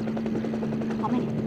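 Helicopter rotor chops in a fast, steady rhythm nearby, with a constant engine whine underneath and voices talking over it.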